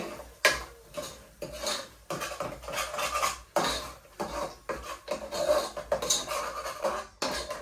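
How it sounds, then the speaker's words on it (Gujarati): A spoon scrapes and clanks against a pan while stirring paneer bhurji gravy seasoned with Punjabi gravy masala, turmeric and cumin, giving repeated close metallic scrapes and knocks in an uneven rhythm, with no talking. "હવે બરાબર હલાઈ લેવાનું છે."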